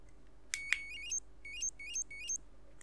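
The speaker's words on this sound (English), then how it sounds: "It's on at the moment. I can hear it beeping." A light-up electronic Halloween mask gives off a string of thin, high electronic beeps, quiet and close, arriving in a short chirping burst followed by three evenly spaced repeating beep groups.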